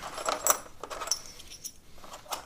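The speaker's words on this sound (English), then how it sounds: "Okay, so I have a bunch of washers." Light metallic jingling and clinking of a handful of metal washers being handled during a Datsun 280Z coilover install, several small close chinks scattered over a couple of seconds.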